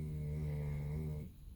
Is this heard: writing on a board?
no